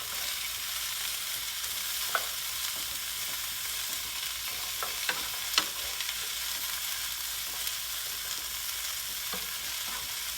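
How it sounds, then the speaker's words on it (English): Grated ginger and garlic sauté in oil with a continuous close sizzle, dotted by scattered small crackles and pops for the full stretch, with no voices over it. "And we're going to saute this for another 2 or 3 minutes."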